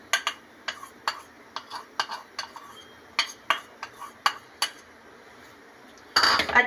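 A spoon mixes custard powder into a little milk. A series of quick, sharp metallic clinks against the bowl comes in an irregular rhythm, close and distinct, before a brief burst of broader noise at the end.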